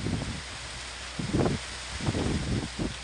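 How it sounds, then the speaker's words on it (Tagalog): Wind gusts of a storm with a tornado buffet the microphone in uneven bursts over a constant hiss of rain, loud and close. "lakas ang hangin at ulan"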